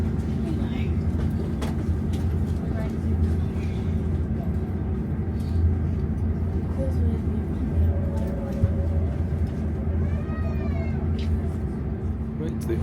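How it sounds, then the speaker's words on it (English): An opposing train pulls into a passing loop on the narrow-gauge Talyllyn Railway in Wales, a steady low rumble with rail clatter and squeals, heard from aboard the waiting train while people talk. "The opposite train has now arrived and I think we're going"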